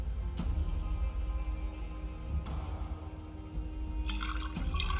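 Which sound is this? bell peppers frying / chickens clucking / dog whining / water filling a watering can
water filling a watering can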